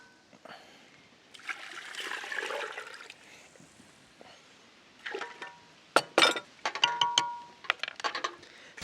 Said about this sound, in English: add water at room temperature. See, I'll just use it to dissolve